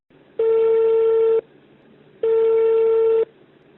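An outgoing call to Abidjan rings twice on the line, each a steady electronic tone of about one second separated by a short silence, clear and alone without voices.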